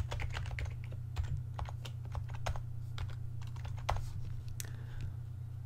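Code is typed on a computer keyboard in a quick, irregular run of crisp key clicks. The keys are close and fairly quiet, over a low steady hum, with no speech.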